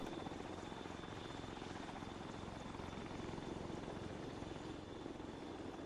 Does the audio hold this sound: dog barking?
no